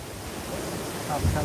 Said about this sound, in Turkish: Hava esmeye başladı şu an.